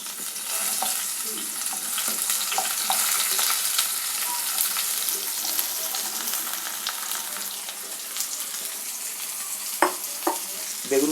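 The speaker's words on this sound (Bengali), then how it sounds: "কেটে রাখা বেগুনগুলো ভাজবো।" Cut brinjal fries in white oil in a wok, giving a steady, bright, close sizzle that eases slightly toward the end, with a few sharp clinks of a utensil near the finish.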